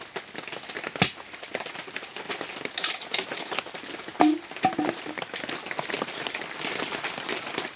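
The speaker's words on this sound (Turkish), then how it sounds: "Yağmur sesini duyuyor musunuz?" Rain falling in a mountain forest during chestnut picking, with steady pattering broken by sharp drips and taps on nearby surfaces, fairly close and continuous, with no talk.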